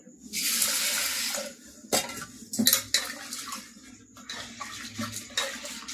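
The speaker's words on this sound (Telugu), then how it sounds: "కుక్కర్లో వేసుకొని బాగా కడుక్కోవాలి" Toor dal is washed by hand in a pressure cooker, with water sloshing and swirling and sharp metallic clinks against the pot rising and falling at close range.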